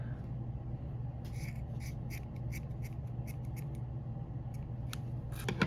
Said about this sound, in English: I'm gonna trim it just a hair more because I want it to be a bit shorter.